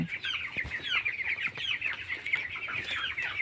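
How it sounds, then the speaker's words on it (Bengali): A crowded chorus of about 950 22-day-old broiler chickens in a farm at night clucks and chirps nonstop, a constant close-up murmur of many birds with no talking. "এটি হচ্ছে একটি ব্রয়লার মুরগির ফার্ম"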